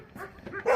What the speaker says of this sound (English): now the dogs are chasing somebody down the street